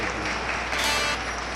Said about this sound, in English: If everyone can put their hands together